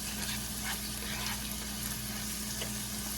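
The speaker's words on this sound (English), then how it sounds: "we want this to get nice and sauteed" Onion sautéing in a frying pan, a loud continuous close sizzle with a faint steady hum running underneath and no breaks, no talking.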